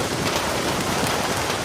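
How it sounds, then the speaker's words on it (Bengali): Heavy rain pours outdoors with a dense, even roar of drops on surfaces, loud and close, with a faint low rumble of thunder underneath and no voices. "ঠিক তখনই বাইরে ভীষণ বজ্রপাত হলো ও বৃষ্টিটা আরও জোরে নামলো।"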